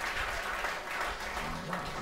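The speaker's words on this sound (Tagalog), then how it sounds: "Pumalakpak nga ng the best kay Jesus" A church congregation applauds during a sermon, dense steady clapping from many hands that fills the room and holds at an even level throughout.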